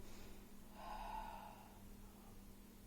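One slow, deep breath taken during a Pilates stretch, a soft airy exhale near the microphone that swells and fades over a steady low background hum.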